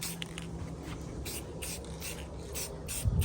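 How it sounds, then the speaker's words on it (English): Light bursts of spray paint hiss onto chrome-upgrade Harley-Davidson Road Glide motorcycle brake parts outdoors, in several short, soft, close passes with brief pauses between them. "Just gonna spray the tops now."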